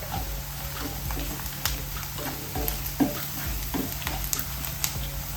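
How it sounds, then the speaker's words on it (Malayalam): Onions sauté with turmeric powder in a pan, giving a steady close sizzle broken by occasional stirring clicks and scrapes, with no voices over the frying. "ഈ ഉള്ളി 1 മിനിറ്റ് ഒന്ന് ഇളക്കിയതിന് ശേഷം ഇതിനകത്ത് 1/2 ടീസ്പൂൺ മഞ്ഞൾപ്പൊടി ഇട്ട് കൊടുത്തേ."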